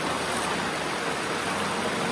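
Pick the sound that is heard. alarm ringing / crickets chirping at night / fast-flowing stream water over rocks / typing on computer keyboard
fast-flowing stream water over rocks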